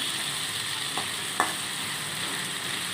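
Quiet, steady sizzling of fish frying in hot oil, with a couple of faint clicks from a utensil stirring.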